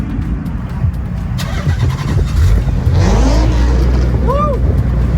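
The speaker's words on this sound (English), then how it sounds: "Alrighty, let's hear this Z." A Nissan Datsun Fairlady Z 240Z engine cranks and catches, then settles into a loud, close, deep rumble that swells as it revs, with people's voices and a whoop over it.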